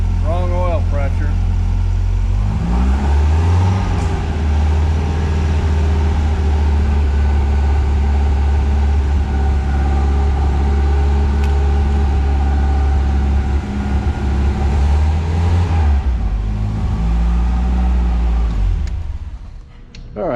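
A 1961 MGA Roadster engine turns over on a cold start, then settles into a steady, loud idle that holds close for the whole stretch before cutting near the end, with talk over it.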